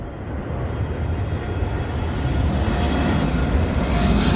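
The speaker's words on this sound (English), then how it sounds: "It was American Airlines 777-300 ER." An American Airlines Boeing 777-300ER passing at London Heathrow, a loud, broad jet roar that builds steadily as the aircraft draws closer, with no voices.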